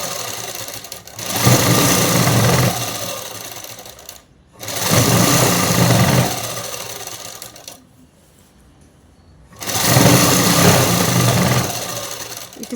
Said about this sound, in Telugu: ఇక్కడ నుంచి అనేది ఇంకా స్ట్రైట్ కుట్టు వేసేసుకోవడం